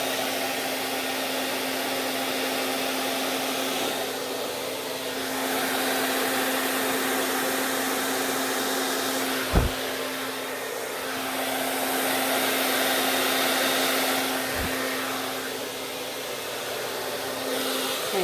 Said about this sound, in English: I love painting with the hairdryer